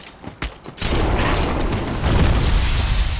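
Electric weapon attack in Dark Souls 3 lands as a sudden loud crackling burst after a few faint clicks, then sustains as a dense buzzing, rumbling roar for about two seconds.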